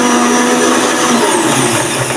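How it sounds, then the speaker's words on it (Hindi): A mixer grinder whirs loudly and steadily while blending flour for ghewar, its motor whine shifting slightly in pitch as it runs without pause. "मिक्सी को मैदा में भी बहुत ज़्यादा देर तक नहीं चलाना है"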